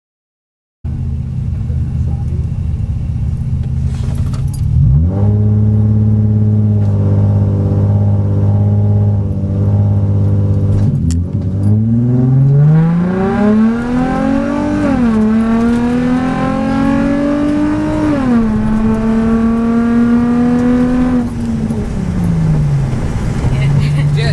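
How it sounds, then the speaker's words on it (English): Nissan 350Z street rod launching down a drag strip, its engine loudly revving and rising in pitch through several gear changes, roaring close by and then holding a high steady note as it pulls away. "There goes Zayn Sami through, 350Z"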